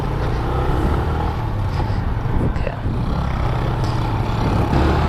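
A car cruises along a city street in China, carrying a steady low engine and road rumble with tyre noise and faint traffic around, close and continuous without anyone speaking.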